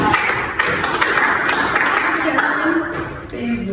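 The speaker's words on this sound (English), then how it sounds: "A round of applause for" A classroom of pupils clapping together, uneven bursts of close claps and taps with some voices under them.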